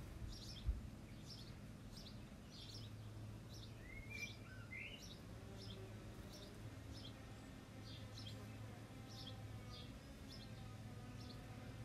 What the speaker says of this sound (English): There's a little sparrow I can hear, and there's a little robin who's sort of fluttering about